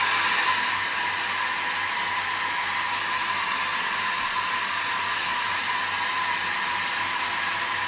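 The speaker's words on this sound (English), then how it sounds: "Here's the hairdryer." A hair dryer blows steadily on wet paint, a loud, even, continuous rushing whoosh with a faint motor hum underneath, unbroken throughout.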